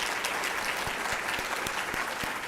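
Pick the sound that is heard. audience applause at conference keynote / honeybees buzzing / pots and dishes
audience applause at conference keynote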